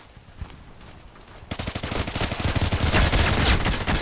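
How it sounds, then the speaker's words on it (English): Rapid automatic gunfire in the Contract Wars shooter, scattered shots at first, then a dense, loud burst of fire from about halfway on, with no talking. "Oh, he shot somebody behind."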